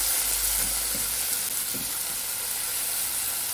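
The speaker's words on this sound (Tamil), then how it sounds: "தக்காளி பழம் சேர்த்துட்டு அதை நல்லா வந்து வதக்கி விட்டுக்கலாம்." Tomatoes sautéing with onion and chilies in a pan for pumpkin sambar, a steady close sizzle with a few soft stirring scrapes early on, no voices.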